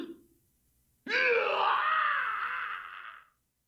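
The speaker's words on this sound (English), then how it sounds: "A dying scream." A drawn-out dying scream from the visual novel Chaos;Head NoAH, one loud strained wailing cry lasting over two seconds, wavering in pitch before it cuts off into silence, following a brief faint breath.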